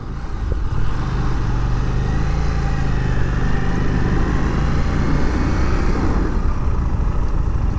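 A Harley-Davidson 750cc motorcycle rides along with a steady, rumbling engine drone and broad wind and road noise, holding an even level throughout.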